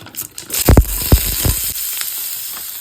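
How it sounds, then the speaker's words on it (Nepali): Cubes of paneer dropped into hot oil in a pan for paneer butter masala, a loud, steady sizzle and hiss with a few sharp spitting pops near the start, close up, with no talking. "तेल पनि खऱ्यो म पनिर हाल्दैछु"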